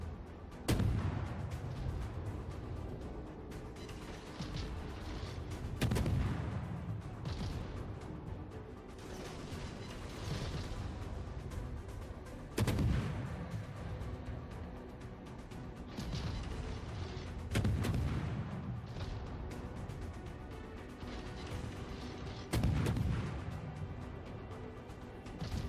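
Naval guns in a ship battle video game fire armor-piercing shells at cruisers, with heavy booming salvos landing every few seconds over a continuous low rumble of engines and sea.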